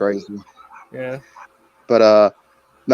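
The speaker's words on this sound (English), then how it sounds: "I'm sorry if you hear barking." Pet dogs bark in short bursts in the background of a home interview, with someone talking over and between the barks.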